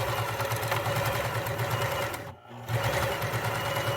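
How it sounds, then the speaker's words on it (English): A sewing machine stitches a summer headband in a steady, close, mid-paced mechanical whir with rhythmic needle clatter, breaking off briefly midway before resuming. "I'm just going to sew up and down this"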